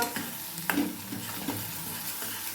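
Egg bhurji being stirred in a pan, a spatula scraping and tapping in a few distinct strokes over a low, soft sizzle.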